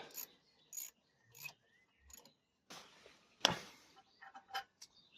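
A ratchet with an Allen key bit working a brake caliper bolt on a car, giving short separated bursts of clicking and scraping at close range, several rapid ratcheting strokes with pauses between, no talking.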